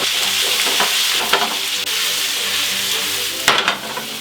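Carrots hitting a hot pan of frying onions and mushrooms bring a loud, steady sizzle, with stirring scrapes and a few brief bursts partway through.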